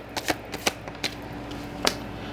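Tarot cards being shuffled and pulled from the deck, a quick series of crisp riffling snaps and flicks up close, then a pause before one last card snap, with no voice.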